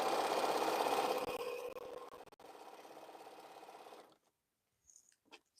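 A sewing machine runs steadily, stitching a quilt onto a scrap of fabric, its rapid needle chatter close and even until it stops abruptly, followed by a few faint clicks.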